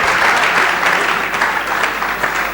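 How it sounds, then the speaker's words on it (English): An audience at a leadership conference claps steadily, a dense and fairly loud round of applause that holds evenly from start to finish, with no talk above it. "If you want to clap, clap better."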